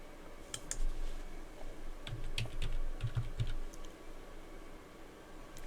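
Typing on a computer keyboard during Wi-Fi passphrase entry while setting up Debian Linux: scattered clicking keystrokes in short bursts, fairly quiet and close, with no talk over them.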